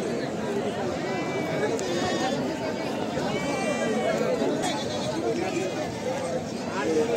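Goats bleat now and then over a steady murmur of a crowd, with people chattering throughout at a busy goat market in Lonand, Maharashtra.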